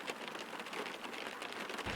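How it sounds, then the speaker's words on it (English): Simulated rain from the X-Plane 11 flight simulator hisses steadily and quietly throughout, a faint continuous wash without distinct drops or speech. "so there's light rain, there's heavy rain"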